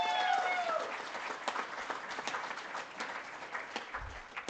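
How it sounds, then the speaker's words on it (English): An audience applauds at a rock show, with a sustained burst of many hands clapping that starts loud and tapers slightly. A few whoops are heard near the start. "Give yourselves a big round of applause."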